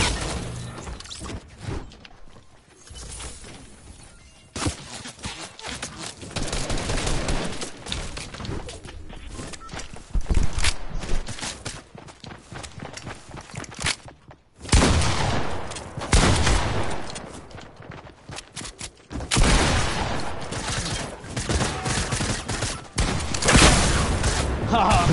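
Video game shootout with dense bursts of automatic gunfire and loud blasts coming in waves, some close and harsh, with stretches of quieter firing between and voices talking over the action.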